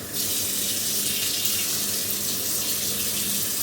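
Hot water runs steadily from a tap into a sink in a home bathroom, a continuous close splashing rush that holds even from start to finish with no voices.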